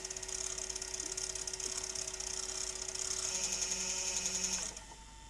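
A Panasonic AG4700 S-VHS video recorder runs in picture search, its tape mechanism making a fast, steady whirring buzz with a high mechanical whine. The whir carries on evenly, then winds down abruptly near the end.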